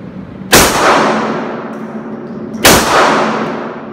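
Handgun shots fired at an indoor shooting range, two loud sharp reports about two seconds apart, each followed by a long ringing decay.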